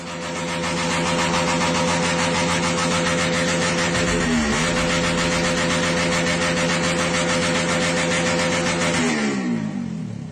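A motorcycle with a loud aftermarket exhaust revs hard and holds high, its raw, harsh note dipping briefly midway before climbing again, then cutting back as it settles.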